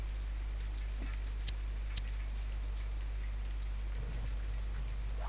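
Steady rain hisses in The Forest survival game, a dense, even patter under a strong low hum, with a few sharper drops ticking through.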